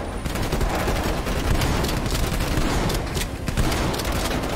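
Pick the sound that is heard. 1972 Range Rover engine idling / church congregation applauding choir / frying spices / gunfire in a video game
gunfire in a video game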